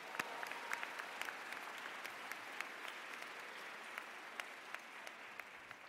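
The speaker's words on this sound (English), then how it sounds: "Give them a round of applause for that." Audience applause at a school closing ceremony after a band, chorus and orchestra performance, a steady wash of many hands clapping at a moderate distance for the whole stretch, with no talk over it.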